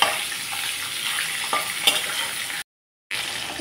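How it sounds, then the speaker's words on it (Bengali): Chital fish fry in hot oil with a dense, even crackle and a few light clicks from handling. The sound drops out briefly near the end, then resumes. "মাছ দুটো আমি একটু কড়া করে ভেজে নেব"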